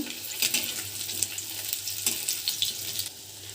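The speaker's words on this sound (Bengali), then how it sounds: "একটু লালচে করে ভেজে নেব" Malabar spinach leaf fritters fry in hot oil with a steady close sizzle and crackle, punctuated by brief bubbling bursts and light clinks, with no voices.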